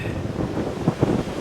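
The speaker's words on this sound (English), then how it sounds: "Wow, is it windy on the river" Strong wind buffets the microphone on an old concrete river bridge along Route 66. A dense, low roar rises in a couple of heavy gusts over the short stretch.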